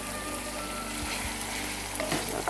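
Potato chunks for Kashmiri dum aloo frying in hot oil while being stirred, a close, dense sizzle with a few scraping knocks of the spoon, no talking.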